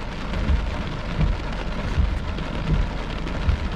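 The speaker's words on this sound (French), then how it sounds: "ça va rester une bonne averse de pluie jusqu'à temps qu'il n'y ait plus rien" Heavy rain shower at the tail end of a thunderstorm, a dense steady roar of falling rain with low rumbling swells that could be distant thunder, continuous and fairly loud throughout.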